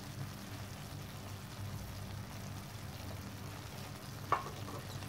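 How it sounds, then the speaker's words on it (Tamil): Coconut burfi mixture with cashews and cardamom powder is stirred in a pan, giving a soft, continuous low sizzling scrape and one brief louder scrape near the end, quiet and without voices. "இது எல்லாத்தையும் சேர்த்து நல்லா மிக்ஸ் பண்ணிக்கலாம்."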